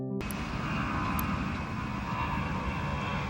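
Airplane engine drone, steady and broad, filling the whole stretch at constant loudness after a brief silent start, like a cabin or nearby aircraft in flight.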